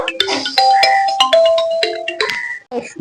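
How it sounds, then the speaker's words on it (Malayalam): A mobile phone plays a melodic ringtone for an incoming call: a loud, close sequence of bright chiming electronic notes that carries on for about three seconds. "ജസ്റ്റ് കോൾ വന്നതാ"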